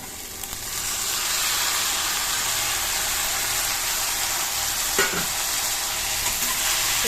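Onion and tomato fry in a pan with a loud, dense, continuous sizzle. The hiss holds steady throughout, broken by one brief spatula knock partway through. No voice.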